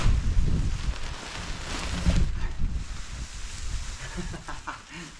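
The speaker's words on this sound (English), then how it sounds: "The wind does not help." Gusty wind buffets a microphone outdoors while a tent is being packed, loud rumbling bursts that ease and return, with faint rustling of tent fabric.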